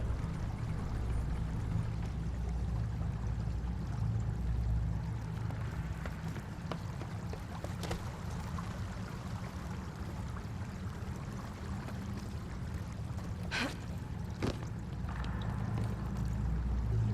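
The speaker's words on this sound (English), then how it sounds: "That's got the water flowing!" Water flows in the video game Echoes Of The End on PS5 as a steady, low pouring and rushing stream that runs continuously, with a few faint knocks and no talking.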